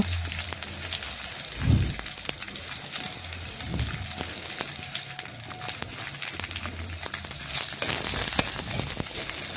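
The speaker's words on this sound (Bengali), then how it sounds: "নাড়াচাড়া করে পেঁয়াজ একটু লাল লাল করে ভেজে নেব।" Chopped onions fry in hot oil with a small bay leaf for a small-fish curry, giving a steady crackling sizzle close by, with occasional stirring bumps and no voices.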